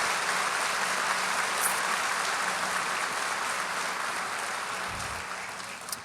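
A church congregation applauds a couple with sustained, dense clapping that stays even and fades slightly toward the end.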